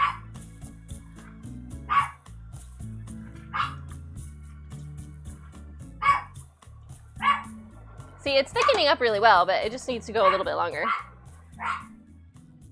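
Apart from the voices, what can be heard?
dog barking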